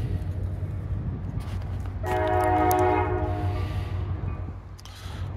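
Conrail freight train CA-64 rolling northbound from a dead stop, a steady low rumble of cars with a loud horn blast midway, heard fairly close outdoors, no talking.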